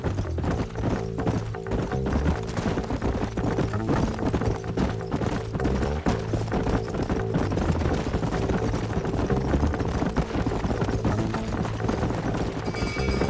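Horse hooves clip-clop in a steady, continuous rhythm in the Red Dead Redemption video game, loud and close, mixed with game sounds that fill the whole stretch.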